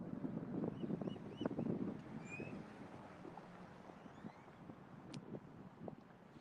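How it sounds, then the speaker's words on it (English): Wind gusts rumble across the microphone outdoors, loudest in the first two seconds, with scattered birdsong and small knocks in the background. "It's a lot windy outside"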